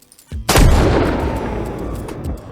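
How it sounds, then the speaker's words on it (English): A custom-designed gunshot built in Unreal MetaSounds fires once, loud and sharp, then rolls into a long outdoor reverb tail that slowly fades over about two seconds. "it's still playing the outdoor tail from our custom designed gunshot"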